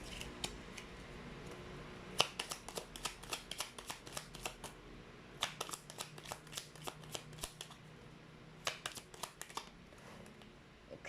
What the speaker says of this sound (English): let's try to pull up another set of cards here for you